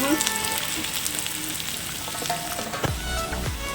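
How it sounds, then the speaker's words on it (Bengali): Onions fry in a pan on a home stove, giving a continuous close crackling sizzle with a few clinks and scrapes near the end, no voices. "আর এইদিকে দেখুন পেঁয়াজটা হালকা ভাজা হয়েছে।"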